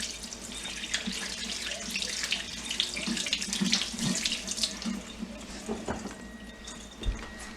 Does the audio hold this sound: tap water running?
yes